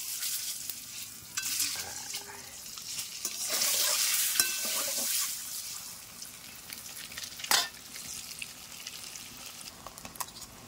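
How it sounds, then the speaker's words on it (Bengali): Eggs frying in hot mustard oil seasoned with turmeric and salt, a steady close sizzle with bursts of spattering and occasional stirring scrapes, swelling in the middle and easing toward the end, with no talking. "এবার ডিমগুলোকে ভেজে নেব।"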